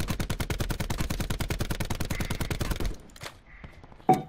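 Rapid automatic gunfire in Call of Duty Black Ops, a steady, evenly spaced stream of loud shots for about three seconds that stops abruptly, followed by quiet and a few faint game sounds.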